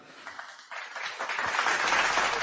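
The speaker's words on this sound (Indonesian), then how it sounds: "Masya Allah, tepuk tangan dulu." Applause from a large congregation, beginning faintly and quickly swelling into a dense, steady roar of many hands clapping.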